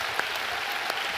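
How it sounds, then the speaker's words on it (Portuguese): A church congregation claps with both hands during a sermon, a brief burst of steady crowd applause with a couple of sharper claps. "Agora vamos bater palmas com as duas mãos."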